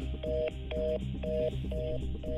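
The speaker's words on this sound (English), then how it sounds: "Do you hear this? How long is this gonna go for? Beep, beep, beep, beep, beep." A telephone call gives out beeping tones: five evenly spaced electronic beeps repeated in a steady rhythm, loud and clear and with no speech.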